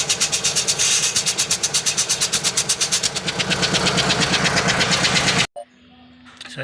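An Isuzu 10PE engine runs with a fast, even pulsing beat while its air compressor blows hard underneath, loud and close, then cuts off abruptly to a quiet hum.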